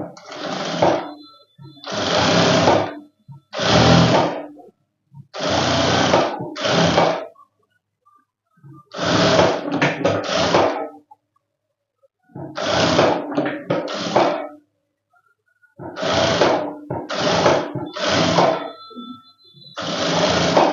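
A sewing machine stitches a long full-circle frock in bursts of rapid mechanical whirring, several runs of a second or two each separated by short pauses, close and loud with no talking.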